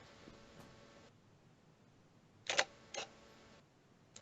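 A Fujifilm GFX100 medium-format camera shutter fires twice, each release a sharp, loud double-clack with an echoey ring, the two shots spaced about half a second apart after a quiet stretch.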